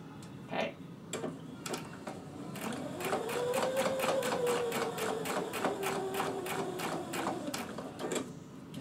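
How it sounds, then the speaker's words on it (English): A sewing machine runs a straight stitch hemming the bottom of a chiffon shirt, a rapid even run of needle ticks with a rising motor whir, close and steady for several seconds after a few isolated clicks. "I can continue my straight stitch hemming the bottom of the shirt at the same time."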